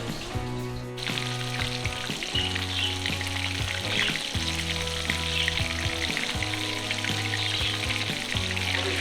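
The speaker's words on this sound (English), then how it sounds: "I'm gonna let it fry, and then until it's golden brown on both sides" Parmesan-crusted chicken sizzles steadily in a frying pan, a dense crackling hiss with scattered pops and spits continuing unbroken at moderate loudness, with no talking.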